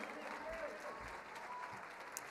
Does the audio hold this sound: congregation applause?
yes